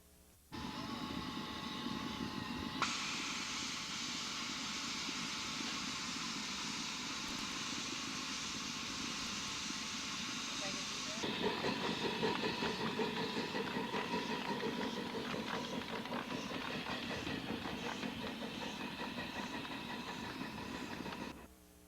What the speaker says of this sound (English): Harry Hawes of Tehachapi, California, has just come off the turntable and will be backing down to pick up his train